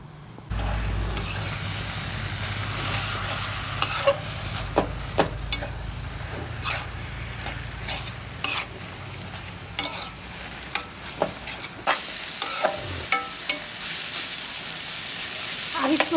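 Ash gourd greens are stir-fried with onion in a pan, with a steady sizzle under repeated scraping and clacking strokes of a spatula, close and clear.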